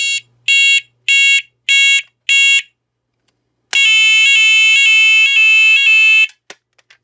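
An ARKEON type 4 battery fire alarm siren in test mode gives five sharp evenly spaced beeps, then after a short gap a steady shrill pulsing tone for several seconds, ending abruptly with faint clicks.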